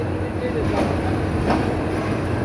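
Mohanagar Express, bound from Dhaka to Chittagong, rolls out of Dhaka Kamalapur railway station with a close, continuous rumble and faint wheel clatter.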